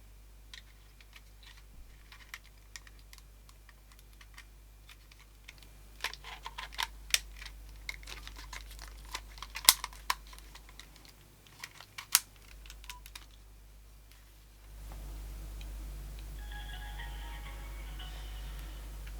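The battery cover of a 2002 Nokia 6310i mobile phone is opened and a SIM card is slid into its tray. Faint, close plastic clicks and taps come in an irregular run, followed by a steady low hum.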